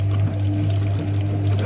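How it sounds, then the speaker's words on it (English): A Hoover 1400 washing machine sprays water during its final spin, a continuous rushing pour over a loud, steady low motor hum, close and without talk. "All these Hoovers do a spray during the final spin cycle as well."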